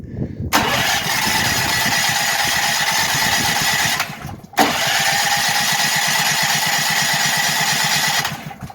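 A Duramax 8500 dual fuel generator cranks and catches, running with a steady engine drone, then cuts out briefly and restarts to settle back into a continuous loud hum.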